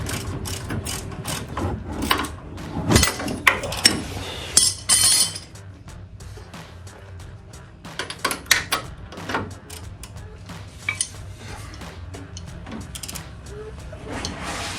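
A torque wrench ratchets a 21mm bolt on the forged upper control arm of a 2021 Chevy Silverado 1500 Trail Boss, giving bursts of sharp metallic clicks and clinks in uneven runs, close by, with quieter gaps between.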